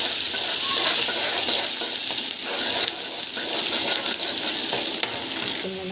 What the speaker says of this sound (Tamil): ஸோ நல்லா வந்து வதக்கிட்டுக்கோங்க.